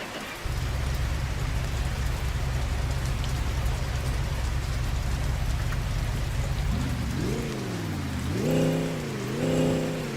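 A repaired ramp truck engine idles steadily with a low, even rumble, then is revved twice in rising and falling surges, heard close up with no talking.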